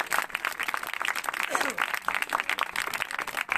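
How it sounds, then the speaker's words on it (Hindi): A church audience at a Christmas service claps for a family, a brief burst of lively applause with voices mingled in the crowd noise. "तो इस खानदान के लिए भी हम जोरदार तालियां बजाएंगे।"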